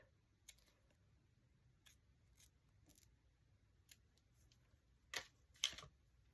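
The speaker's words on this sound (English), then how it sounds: "let's just cut 2 of them off." Small craft scissors cut through lace flowers: a handful of faint, crisp snips spread out at first, then two louder, sharper cuts near the end, in a quiet room without speech.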